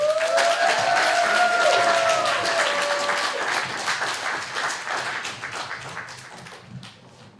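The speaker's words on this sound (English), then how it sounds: "Can we get a round of applause for our candidate?" Sustained applause from a crowd, dense clapping that stays loud before gradually thinning and fading toward the end, with a few voices cheering over it.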